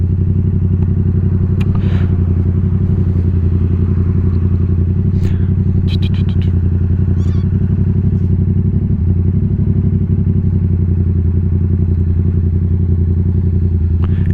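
A 2021 Yamaha MT-07 motorcycle engine drones steadily and loudly at close range, a constant low throbbing hum with a few faint clicks and clatters over it, and no clear rise in revs.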